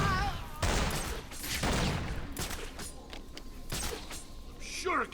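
Gunfire in the video game Batman: Arkham City, heard as several close, loud bursts of rapid shots with brief gaps between them over a continuous background rumble.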